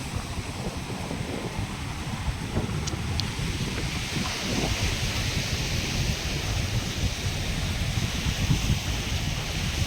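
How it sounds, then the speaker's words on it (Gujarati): Waves and wind at a seashore, a constant broad roar of surf with heavy gusts buffeting the microphone, continuous and loud, with no voices. "અમે આવ્યા છે દરિયાના કિનારે"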